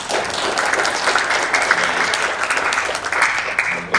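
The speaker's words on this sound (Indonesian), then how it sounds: "Kasih tepuk tangan dulu buat panitia" Audience applause for the organizing committee at a breaking-fast gathering in Batam, lively uneven clapping with a few sharper individual claps standing out, no talking.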